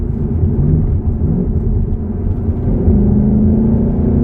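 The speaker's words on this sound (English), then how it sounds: "I love the way this 5-liter V8 just revs" A 2016 Mustang GT convertible's 5-liter V8 rumbles low and steady from inside the cabin while driving, its engine drone rising slightly in pitch toward the end as it revs.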